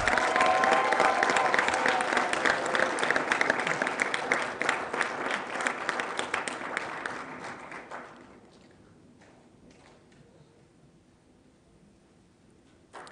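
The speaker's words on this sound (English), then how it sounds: "Shall we give them a round of applause as they exit the building?" A crowd gives sustained, dense applause at a graduation ceremony for an MBA class, loud for about eight seconds before fading to scattered claps and quiet.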